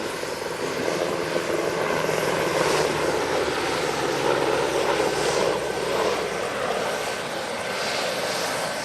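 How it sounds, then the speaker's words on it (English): An AgustaWestland AW101 helicopter with three Rolls-Royce Turbomeca RTM 322 turboshaft engines drones loudly at an airshow, a steady rotor thrum and turbine whine held for several seconds without any voices. "the AW101 has 3 Rolls-Royce Turbomeca RTM 322 engines powering its main rotor"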